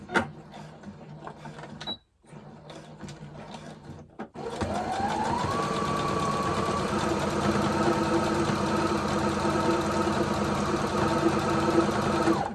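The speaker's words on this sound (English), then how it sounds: "Just sew it down, guys. Just sew it down." A sewing machine stitches down fabric layers of a scrappy Christmas tree ornament, starting after a few seconds of quiet handling and then running in a steady, close, continuous whir to the end.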